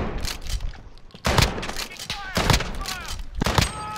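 Gunfire in the Modern Warfare multiplayer video game, several sharp bursts and single loud shots spaced across the moment, close and punchy, with players talking over the action.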